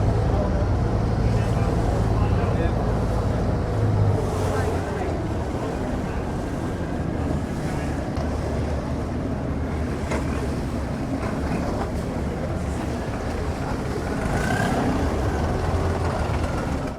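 A river ferry crossing in Bangkok, with a steady, loud engine drone and the rush of water and wind buffeting the microphone throughout, broken by occasional bumps and clatter.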